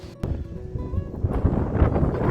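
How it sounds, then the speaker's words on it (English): Gusty wind buffets the microphone on the Pacific Crest Trail, a low rumbling roar that swells and thickens toward the end, with no talking. "but it's kind of windy"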